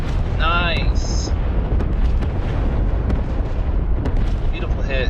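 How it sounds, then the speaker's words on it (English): Drone strikes on an air base in the DCS combat game produce a continuous loud roar of blasts and rumbling booms with sharp cracks, while someone talks over them. "More explosions. We're collapsing some of their buildings here."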